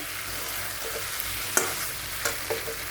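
A thick masala paste sizzles in oil in a pan, with a soft continuous crackle broken by a few sharp scrapes and clinks of a spoon stirring it.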